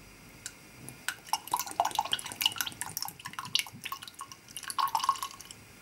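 Chamomile water being poured into a homemade cosmetic cleansing-milk mixture makes irregular, soft trickles and drips that splash up close. The sound is faint and uneven, with no voices.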